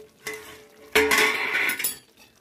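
A metal lid lifts off a pot of simmering chicken curry with a clanking scrape, followed by a louder burst of bubbling sizzle and rattling metal, close and without talk.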